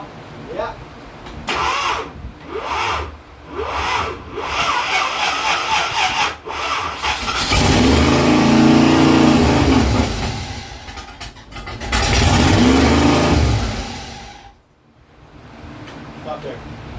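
A 1967 Ford Mustang engine cranks and catches for its first start, then revs in two strong surges before dropping away, with people talking nearby before and between the revs.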